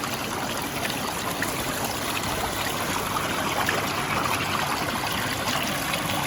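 Continuous rushing, bubbling water from hot tub jets, steady and fairly loud with no breaks and no talking.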